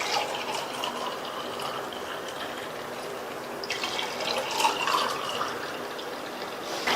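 Unstrained buttermilk pours and splashes into a serving glass, a steady close liquid trickle with a brief gurgling rise in the middle, no voices.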